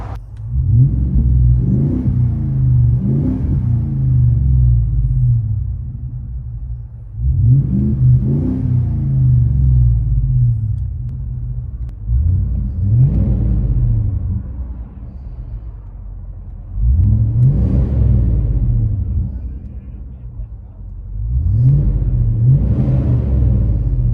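Cabin view of a 2020-2026 Ford F-250 with the 7.3L V8 and a Borla ProXS true-dual exhaust with X-pipe, revved in five deep, loud swells that rise and fall with short pauses between them.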